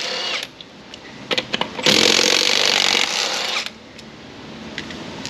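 An impact wrench whirs loudly in a sustained burst while lug nuts come off a Jeep Wrangler wheel, with a few short tool clicks and knocks before and after.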